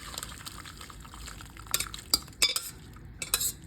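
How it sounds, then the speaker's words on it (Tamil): A pressure cooker opened and homemade tomato soup stock strained: a quiet bed of liquid movement broken by several sharp metallic clinks and clatters of utensils and pots. "குக்கரை திறந்து இப்போ நம்ம இந்த ஸ்டாக்கை வடிகட்டிக்கலாம்"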